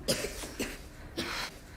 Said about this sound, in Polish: Dzieci zaczęły dziś kasłać.